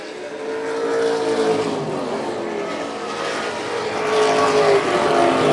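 Pro Stock race cars lap a short oval track, engines droning loud and continuous with rising and falling passes as the pack goes by, no talk in the foreground.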